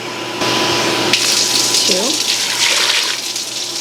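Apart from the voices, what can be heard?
pouring hot water into a bowl for bagel dough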